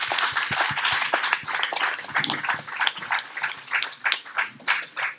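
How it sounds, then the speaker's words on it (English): Conference audience applauding the panelists after a WorldSkills session on gender equity in skills, a scattered round of clapping from a modest crowd that starts dense and thins into separate claps toward the end. "a big thank you and a round of applause to our panelists here today"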